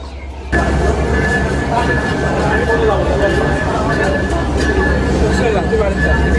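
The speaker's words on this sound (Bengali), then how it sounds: "ওই যে দূরে এত সময় যে লোকোমোটিভ ছিল আমেরিকান জায়েন্ট ইএমডি ছেষট্টি সিরিজের লোকোমোটিভ আমাদের ট্রেন থেকে বিচ্ছিন্ন হয়ে চলে যাচ্ছে" An American EMD diesel locomotive uncouples and pulls away from a passenger express at a station in Bangladesh, producing a steady loud engine rumble with a sustained whining tone, while someone talks over it throughout.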